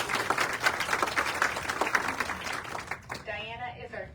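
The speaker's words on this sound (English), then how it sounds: "So let's give her a round of applause." Audience applause at a fall fashion show in a store in Peoria, Illinois, a dense patter of clapping for about three seconds that thins and fades, with a voice starting up over the tail.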